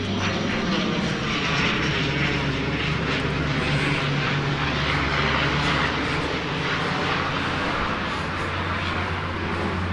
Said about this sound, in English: While this plane goes over,